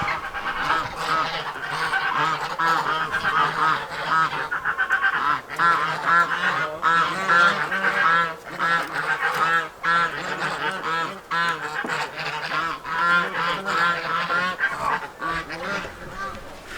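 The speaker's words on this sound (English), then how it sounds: "So now we have 4 geese, turkeys, and ducks out." Four geese honk repeatedly and loudly, with ducks quacking among them, a continuous noisy chorus of farmyard waterfowl loose outside their pen close by.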